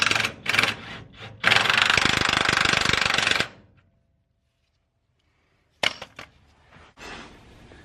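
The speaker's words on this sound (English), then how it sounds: "I just hit it with the impact and it ran it straight on." An impact wrench hammers rapidly in a loud two-second rattling burst running a nut onto a Dana 50 axle suspension, then goes silent, followed by a few sharp clanks of metal nearby.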